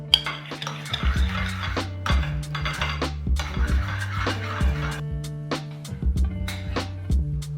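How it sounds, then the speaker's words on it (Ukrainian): A spoon scrapes and clinks steadily against a metal pot of banosh, a Carpathian cornmeal porridge with mushrooms and sheep's brynza, with repeated knocks and a rhythmic stirring motion, close by. "І тепер перемішуємо."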